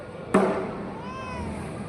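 A single sharp cat meow close by, loud at first and then trailing off into quiet room noise.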